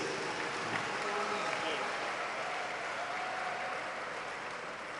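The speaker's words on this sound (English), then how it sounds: "now please give your warm applause to the two speakers" Steady applause from a conference audience, a dense wash of clapping that continues evenly throughout at a moderate distance.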